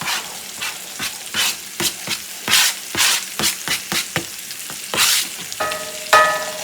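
Mushrooms, onion and celery sautéing in butter in a skillet, a soft sizzle broken by a series of scraping stir strokes, close and moderately loud, with a brief tonal clink near the end.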